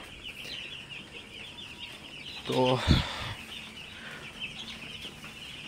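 Broiler chicks cluck and peep faintly in the background, with one louder burst of calls near the middle, while someone talks over them.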